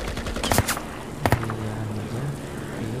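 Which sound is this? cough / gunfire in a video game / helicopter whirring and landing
gunfire in a video game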